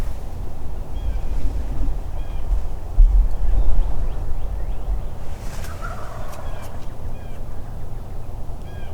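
Several wild turkeys, bearded gobblers, call from a distance in an outdoor hunting setting, with a few short gobbles rising over steady low wind and rumble.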